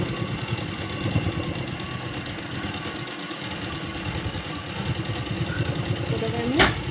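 A sewing machine runs a double line of stitching along the underarm seam of a torn nightie, a steady fast mechanical whirr close up that continues throughout, with a brief bright clunk near the end.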